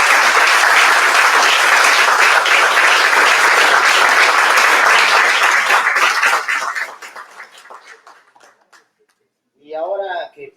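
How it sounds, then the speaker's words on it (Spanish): Audience at a book presentation claps for Maximiliano, a full burst of applause that tapers into scattered claps and stops, followed by a brief voice speaking. "yo quisiera pedirles un aplauso para Maximiliano por el"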